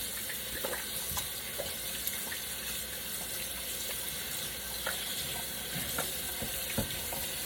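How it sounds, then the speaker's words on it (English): A kitchen tap runs steadily while hands are washed beneath it during homemade meatball preparation, a continuous close splashing hiss with small irregular spatters and no voices. "Let me wash my hand a little bit."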